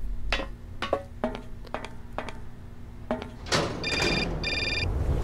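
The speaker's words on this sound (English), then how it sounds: "Phone call again." In the video game Syberia, a telephone rings in short repeated bursts of bright bell trills. A few clicks and clatters follow near the end.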